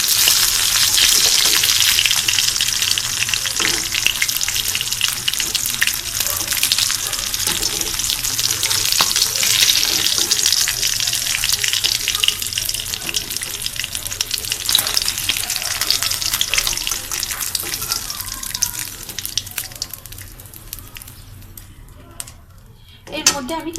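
Rui fish being browned in hot oil in a pan, a loud, steady, close sizzle and crackle running nearly the whole time, then dying away to quiet at the very end.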